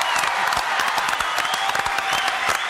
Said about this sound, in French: Applaudissements pour le président.